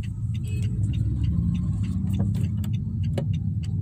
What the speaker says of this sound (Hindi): अरे इधर से गाड़ी आ रही है।